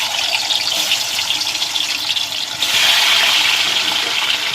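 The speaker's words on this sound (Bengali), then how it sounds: "তো কড়াটা গরম হয়ে গেছে, তেল দিয়ে দিলাম। গরম হয়ে গেছে, মাছগুলো দিয়ে দিচ্ছি।" Pieces of boal fish go into hot oil in a wok, giving a continuous hissing sizzle that grows suddenly louder and denser partway through.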